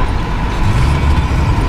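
A 1971 Datsun 240Z gives a quick engine blip during a heel-toe downshift, heard from inside as a steady, loud low exhaust rumble that swells briefly mid-way.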